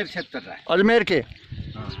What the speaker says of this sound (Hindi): ये बीकानेर क्षेत्र नस्ल का बकरा है